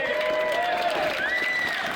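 A large crowd at a firearms rally cheers and applauds steadily, with whistles rising over the dense clapping and a general roar throughout.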